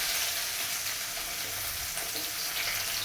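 Onion and green chilli sautéing in a pan for a Madurai-style fish curry: a steady, close, hissing sizzle with faint stirring scrapes, unbroken throughout and with no voices.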